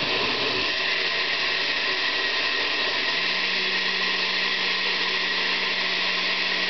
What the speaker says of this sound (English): Put your lid on the blender.